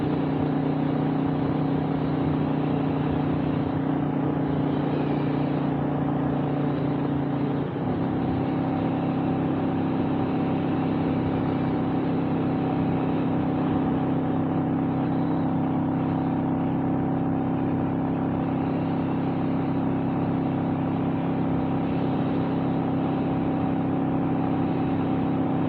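A car engine pulls steadily through the top of fourth gear and up into fifth, a constant droning hum heard from inside the vehicle with a brief dip at the shift, and no one talking.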